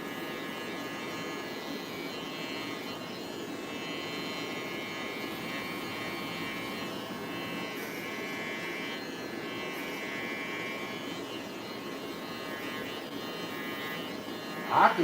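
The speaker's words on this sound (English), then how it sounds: "what we gotta do next is just take out the shaver." Steady electric shaver buzz from a video game, a continuous mid-level hum with bright tonal overtones running evenly throughout, ending in a short louder burst.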